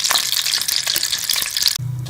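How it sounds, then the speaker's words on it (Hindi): Sugar melts and browns in a pan for makhandi halwa syrup, giving a loud, dense bubbling sizzle that runs steadily and then cuts off abruptly near the end, with no talking. "चीनी हमारी मेल्ट हो रही है और इसको ब्राउन कर लेंगे।"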